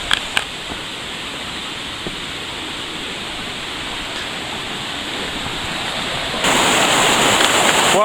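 Black Brook flowing on a sunny mountain trail, a steady broadband rush of water that grows louder near the end, with a few faint knocks and no talk.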